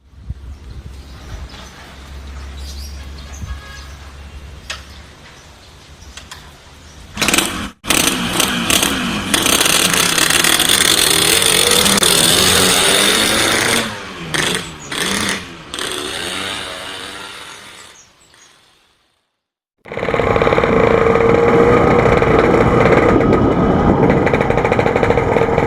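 A Yamaha RX King two-stroke motorcycle engine, heard close, idles then rasps loudly through repeated revs, drops briefly to near silence, and then roars back strongly.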